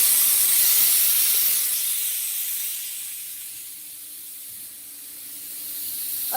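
A pressure cooker releases steam in a strong loud hiss that eases off slightly and then builds again, with no voices over it.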